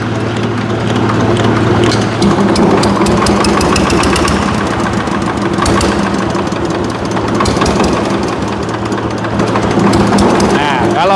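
A Dongfeng engine driving a hammermill for animal feed runs loud and steady at a low idle throughout, with a continuous droning hum and a rough, knocking mechanical texture.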